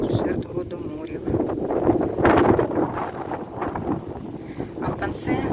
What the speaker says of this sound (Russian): Ветер какой сильный сегодня